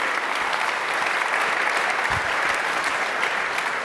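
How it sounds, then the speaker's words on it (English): An audience at an evening aviation presentation breaks into steady, sustained applause, dense and even throughout, with no voices rising above the clapping. "Round of applause for"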